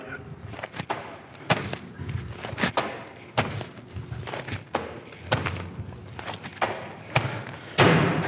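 Heavy medicine balls thump repeatedly against a wall target during a gym workout of wall balls, the dull thuds coming at an irregular rhythm, some closer and louder, with faint gym noise around them.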